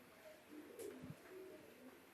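Soft, low cooing from an Indonesian racing pigeon of the kelong type, a 16-year-old bird, with a few brief murmured coos in a quiet outdoor spot.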